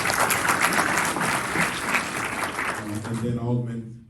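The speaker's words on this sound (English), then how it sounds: "Y'all clap for Alderman Leggett." Audience at a membership meeting applauding an alderman. Dense, steady clapping fills most of the clip and fades out near the end as a voice starts speaking.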